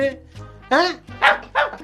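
A dog gives a few short, sharp barks in close succession, close and fairly loud, with a voice in the background.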